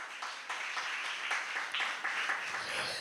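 Congregation clapping at a Sunday church service, a fairly faint burst of many hands applauding steadily for a few seconds with uneven swells, heard from some distance.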